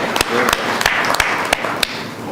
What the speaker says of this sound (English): let's give a big applause for Noad